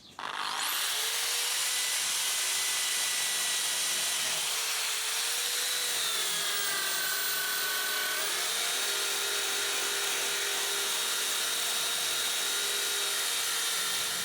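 A continuous high-pitched motor whine runs steadily throughout, its pitch shifting slightly a few times, like a power drill running under load, cleaning rusty Yamaha Virago 250 motorcycle rims.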